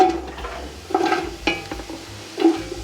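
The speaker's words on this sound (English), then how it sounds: "So I have some olive oil heating in the pan. Put my onions in." Onions sizzle in hot olive oil in a pan, with a spoon stirring and scraping against it in a few separate bursts; close, moderately loud and with no talking.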